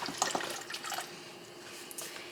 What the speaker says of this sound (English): I'm going to add in my veggie broth and get that going